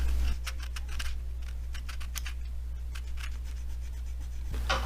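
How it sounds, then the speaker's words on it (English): Rasping strokes of a file or sandpaper working a custom body part for a 1970 Dodge Challenger, coming in short repeated bursts over a steady low hum, fairly close. "we take the file tool or the sandpaper, whatever we need, and just work on it"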